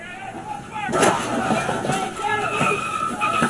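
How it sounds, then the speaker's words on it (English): Pistol shots fired by a police officer during an on-duty shooting, several sharp loud cracks spread across a few seconds amid street noise, with voices talking over them. "Shots fired. Shots fired. I just shot him."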